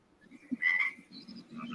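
Frogs croak at night outdoors, a single low croak followed by a louder burst of calls, with crickets chirping steadily alongside and no talking over it.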